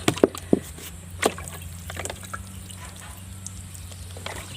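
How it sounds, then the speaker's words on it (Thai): Water drains through the hole in the bottom of a seedling pot as a faint continuous trickle with a few sharp drips and taps near the start, close by and quiet, over a low steady hum. "ให้น้ำไหลผ่านตรงรูก้นตูดไปเลยนะคะ รูก้นกระถางไปเลยนะคะ"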